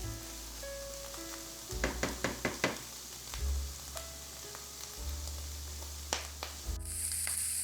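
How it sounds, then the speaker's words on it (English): Onions and mushrooms sautéing in a frying pan for Salisbury steak give a steady sizzle, broken by a quick run of sharp knocks and scrapes from stirring in the pan. "the onions and the mushrooms are sauteing nicely"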